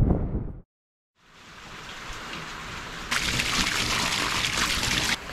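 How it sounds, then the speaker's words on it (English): Steady rain falling outdoors on the Okuru River near Haast, a dense continuous hiss after a brief silent gap, growing slightly brighter and louder partway through, with no one talking. "it's still bloody raining"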